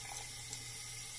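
A tap runs steadily into a sink, a faint continuous hiss and splash with no talking.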